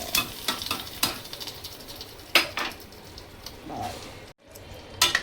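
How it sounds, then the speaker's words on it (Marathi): Hot tempering oil hits cooked spinach for palak paneer, giving a soft sizzle with a few sharp spoon and pan clinks that break in and out of a quiet background. "आता आपण करूया ह्या पालकमध्ये हा वरून तडका"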